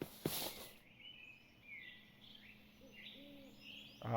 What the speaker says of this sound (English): Yes, the bird's tweeting